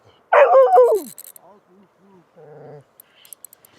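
A puppy lets out a loud high yelp, then a string of soft whimpers and a short whiny bark, close by in an otherwise quiet outdoor setting near fishing.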